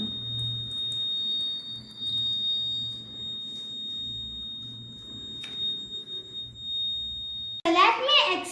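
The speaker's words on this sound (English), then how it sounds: "You can hear that the alarm is buzzing." A homemade battery-powered rain alarm buzzes in a steady high-pitched drone, close and continuous under a child explaining, ending with a louder burst of sound.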